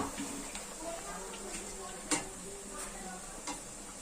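Puris dropped into hot oil fry with a soft, crackling sizzle at a low level, with a few small taps of a utensil and a clearer clink midway.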